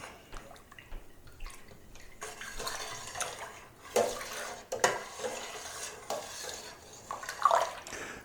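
Tomato wine must is stirred in a container with straining bags still in it, giving soft liquid sloshing, drips and occasional clinks of the stirring tool against the vessel, close and fairly quiet.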